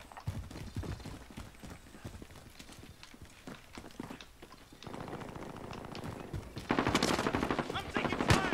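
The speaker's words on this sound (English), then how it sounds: "I'm taking fire." Rapid gunfire from the video game Call of Duty Warzone, dense bursts and single shots crackling through the whole stretch and growing louder and more intense toward the end, with a voice briefly heard amid the shooting.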